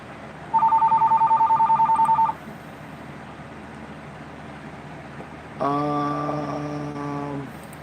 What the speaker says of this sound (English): the infamous phone call that keeps coming in